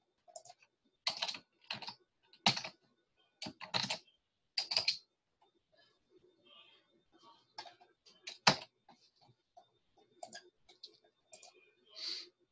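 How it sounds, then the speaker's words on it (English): Keys rattle on a computer keyboard in a quiet room, in scattered quick bursts of clicks with short pauses between, fairly close but soft. "I'll just type it."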